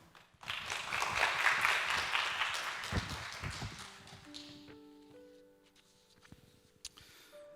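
Church congregation at a Sunday service bursting into loud, dense applause that gradually thins and fades, leaving scattered claps and faint low tones at the end.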